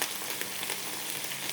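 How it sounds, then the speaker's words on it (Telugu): Fish frying in hot oil that splatters, producing a bright, continuous crackling sizzle close by with small spitting pops and no talking. "మళ్ళీ ఫ్రై చేసిన ఎగురుతా ఉంది అది ఆయిల్"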